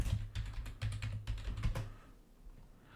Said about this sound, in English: I keep on typing wrong.